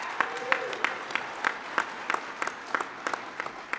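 Audience at a talk clapping in a light, scattered patter of individual claps that carries on throughout, fairly faint and with no one speaking over it.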